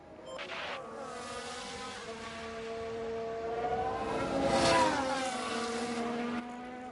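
F1 cars in the F1 Manager 22 video game roar past during an overtake, engine whine holding steady then swelling louder and shifting pitch as one car closes and passes.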